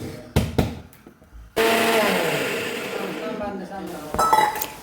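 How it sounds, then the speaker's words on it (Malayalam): A kitchen mixer grinder whirs loudly and steadily for about three seconds, blending a chutney of sautéed tomato, onion and coriander leaves, after a few sharp clinks and knocks of the jar being closed. "ചമ്മന്തി മല്ലിയില ഇട്ടു ആദ്യം തന്നെ അതിൻ്റെ മുകളിൽ കൂടെ വഴറ്റിയിട്ടുള്ള സാധനങ്ങൾ തക്കാളി സവാള തുടങ്ങിയിട്ടുള്ളത് അതിലിട്ടു അടച്ചിട്ട് അരയ്ക്കാം"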